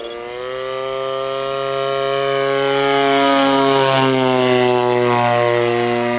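A 1.5 m Pitts Special RC biplane with a 26cc gas engine flies past, its loud buzzing two-stroke drone rising and shifting in pitch as it passes close overhead.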